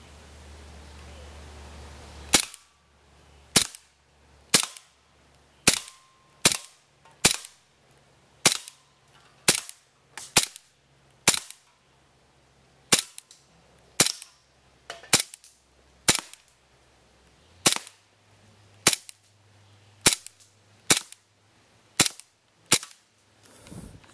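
A Swiss Arms P92 / GSG-92 pistol fires about twenty sharp, loud cracks, spaced roughly a second apart at a fairly even pace, each clean and close with quiet gaps between shots.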